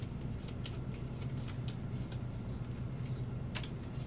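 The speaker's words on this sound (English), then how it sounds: "Shuffle, shuffle, shuffle." Cards for the Kingdom Death: Monster board game are shuffled close by. Quiet riffling bursts repeat over a low background hum.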